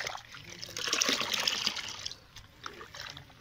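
Water poured from a mug onto oil cake soaked for days as garden fertiliser, a close trickling splash that swells, then thins into a light dribble.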